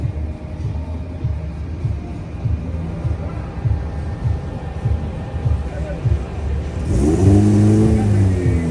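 A Volvo PV 544 rally car at the Rallye Monte-Carlo Historique throbs with a rhythmic, pulsing engine idle before revving up loudly and rising in pitch near the end.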